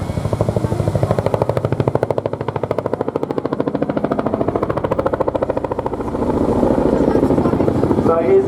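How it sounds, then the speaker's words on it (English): A military helicopter flies past at the Torbay Airshow with a loud, fast rhythmic rotor chop that holds steady and then swells toward the end, while a commentator's voice is heard over it. "So here's the aircraft running left now."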